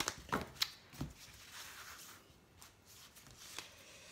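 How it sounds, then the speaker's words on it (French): Cards from a 52-card oracle deck are shuffled and one is drawn, giving a few soft, brief papery flicks and slides, close and quiet, with no talk. "je vais tirer une petite carte de 52 cartes pour vivre l'amour"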